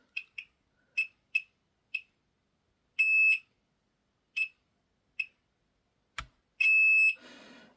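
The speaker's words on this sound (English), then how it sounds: "purely just taking a quick beep test on these." A multimeter giving continuity beeps as its probes test capacitors on an Intel 160GB SSD: short, sharp electronic beeps at irregular intervals, with two longer sustained tones and a brief clatter.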